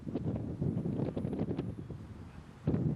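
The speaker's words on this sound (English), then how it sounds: "Look at the wind. The trees are just bouncing." Wind gusts roar steadily across an outdoor disc golf course, with trees bouncing in the blow, a broad rushing buffeting that swells again near the end, no voices.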